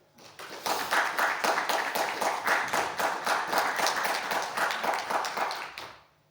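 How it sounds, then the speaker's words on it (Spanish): An academic conference audience breaks into applause, a dense, steady wash of many hands clapping that swells quickly, holds for about five seconds and then fades out. "Un aplauso, por favor."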